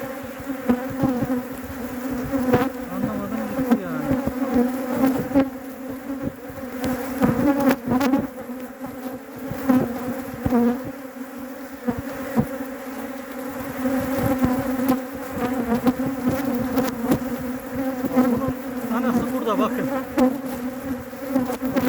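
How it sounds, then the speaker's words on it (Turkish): Close, intense bee buzzing drones steadily throughout, a dense angry hum from many insects without pause. "bu kadar sert bir arı, bu kadar agresif bir arı"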